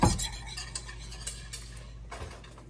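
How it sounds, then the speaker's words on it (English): A creamy custard mixture being stirred constantly in a pot, a spoon scraping and clinking softly against the metal in an uneven rhythm, quiet and close with no voices. "you need to constantly stir the entire time"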